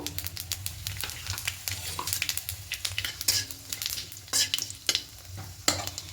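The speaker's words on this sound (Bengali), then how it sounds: "এবার কড়াইয়ের মধ্যে কিছুটা সাদা তেল দেব, দিয়ে তেলটা একটু গরম হতে দেব। 1 টেবিল মতো মৌরি দেব" Fennel seeds sizzle in hot white oil in a wok, a steady crackling fry broken by sharp metal scrapes and taps of a spatula stirring the pan, with no voices.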